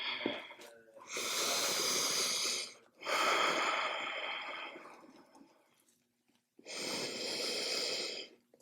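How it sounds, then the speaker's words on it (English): Three long, deep breaths come close and unhurried during beginner morning yoga stretches, each a full airy rush separated by short pauses, with no talking. "Breathing nice and deep."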